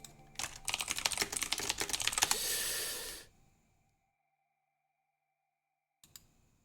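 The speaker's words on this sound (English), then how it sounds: "I'll just type in Pokemon Red and Blue" A computer keyboard is typed on in a fast, close clatter of keystrokes for about three seconds. Then it goes quiet, and a couple of faint clicks come near the end.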